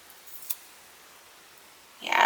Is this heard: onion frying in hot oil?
no